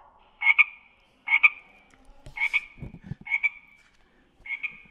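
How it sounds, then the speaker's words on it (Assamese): A played-back recording of a frog croaking: five evenly spaced, sharp double-pulsed croaks, with some low thumping noises in the middle. "ফ্ৰগ।"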